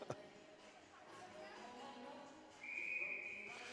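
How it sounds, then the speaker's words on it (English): A referee's whistle sounds at a youth U16AA ringette game, a steady high tone near the end rising over crowd and rink noise, with a commentator talking throughout. "the referees had to blow the whistle"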